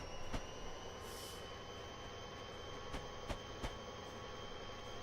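Train running in Train Simulator 2018: a steady low rumble with faint wheel squeal and a few sharp clicks from the rails, quiet and continuous, with no talk.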